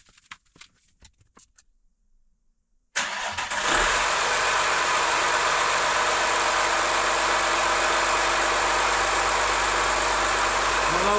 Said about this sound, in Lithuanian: dabar užkursiu mašiną, kad pašiltų